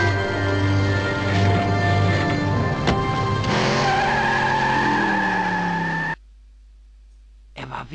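Car tires squealing in a long skid in the Broken Sword video game, loud and sustained, rising in pitch before cutting off abruptly into silence, followed by a brief thump.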